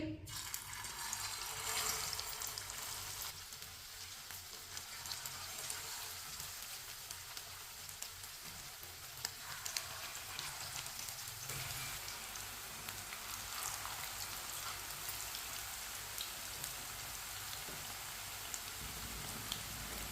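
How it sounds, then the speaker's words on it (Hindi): Kebabs frying in hot oil over a lowered flame, a steady, even sizzle and crackle with faint scattered pops, continuing throughout without talking. "एक एक करके कबाब डाल लेंगे"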